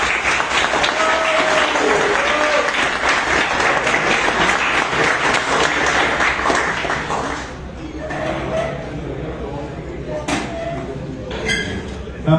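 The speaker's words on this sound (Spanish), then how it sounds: "Fuerte aplauso al ingeniero." Audience at an engineering lecture on nanotechnology applauding a guest engineer, loud sustained clapping that thins out after several seconds into scattered claps, clinks and a voice.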